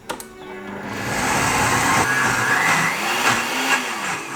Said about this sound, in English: There might be something wrong with the blender.